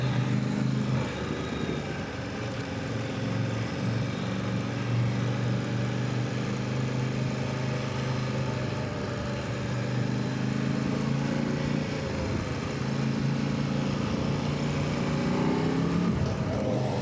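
A Kove 800X Rally motorcycle in third gear gives off a continuous, fairly even engine drone, heard up close from the rider's position with no clear separate bursts.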